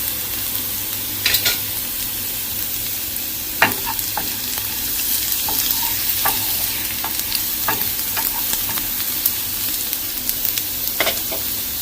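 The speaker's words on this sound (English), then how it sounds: "Keep the heat low and you can see how it is shrinking and getting nicely fried" Garlic frying gently over low heat in a pan while lentils are being cooked, giving a steady soft sizzle with occasional crackles and stirring scrapes throughout, close and continuous with no talking.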